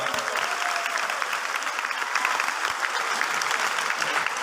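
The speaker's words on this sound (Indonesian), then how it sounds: "Tepuk tangan untuk kita semua." A packed audience applauds steadily and densely at a pesantren talk show and Quran recitation gathering at Pon-Pes Daarul Rahman, with sustained clapping and no break.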